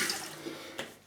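Water runs steadily from a tap into a sink while rinsing between traditional wet-shaving passes, a soft continuous splashing hiss with a couple of brief louder gushes.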